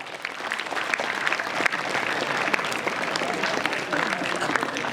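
Loud, continuous clapping from a school audience at a farewell speech at SMK Sri Nipah, honouring a mentor, with dense claps that hold steady for several seconds and voices mixed in the crowd.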